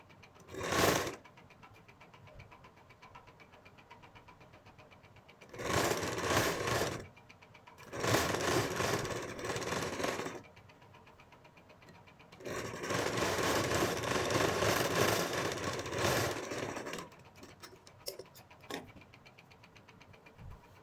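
A sewing machine stitches a blouse seam in four separate runs of steady, close whirring, from short to several seconds long, with quiet gaps between them.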